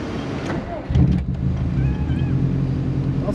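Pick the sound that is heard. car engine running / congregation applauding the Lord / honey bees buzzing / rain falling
car engine running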